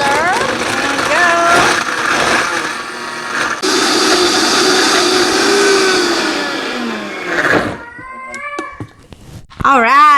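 A blender crushes ice for an avocado smoothie, a loud steady grinding whir that runs for several seconds and then winds down, with someone speaking briefly over it before the motor stops.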